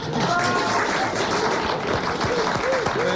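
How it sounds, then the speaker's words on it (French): Studio audience on a French radio talk show applauding: a short, steady burst of clapping mixed with voices speaking over it. "on vous applaudit pour votre fidélité à Fabrice et à RTL."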